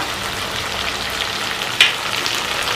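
Tomatoes sizzle and crackle steadily in a hot pan for a liver curry with ginger paste, a continuous close frying hiss with one brief louder pop partway through.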